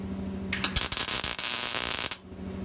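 A short burst of harsh electric crackle and buzzing from a welding arc making a tack weld lasts about a second and a half, then cuts off over a low hum.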